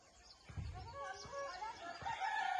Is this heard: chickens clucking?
yes